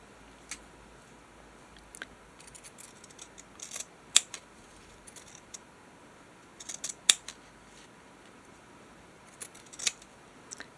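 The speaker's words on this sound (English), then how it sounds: "Actually, I should just cut it in half." Scissors snip through a fabric patch with a few scattered cuts and short clusters of crisp blade clicks, close and fairly quiet, with no talking.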